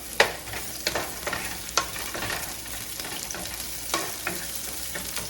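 Onion and mixed vegetables stir-frying in hot spiced oil with ginger, garlic and chili over high heat, a steady loud sizzle broken by sharp scraping stirs of the spatula every second or so, with no talk.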